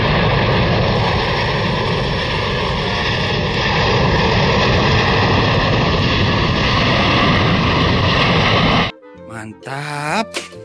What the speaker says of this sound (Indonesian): Wih, ada pesawat teman-teman.